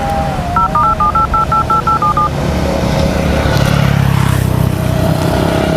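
A telephone number is keyed in, a quick even run of about ten DTMF beeps over loud outdoor traffic with a passing motorbike or car engine, then the engine noise carries on alone.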